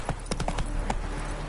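Hooves of Roach, Geralt's horse in The Witcher 3, clopping in a quick galloping rhythm, close and fairly loud against a dense game soundscape.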